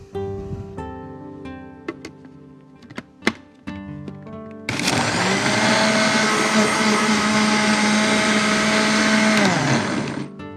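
An electric blender whirs through a juice of washed lettuce leaves, with a few dull knocks and clicks first, then a loud, steady motor roar that holds for about six seconds before winding down at the end.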